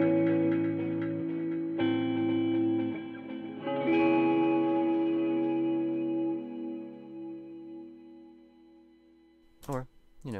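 An electric guitar played through a standard overdrive pedal, with sustained chords ringing out and slowly decaying, a fresh strum partway through, then a brief quick figure at the end.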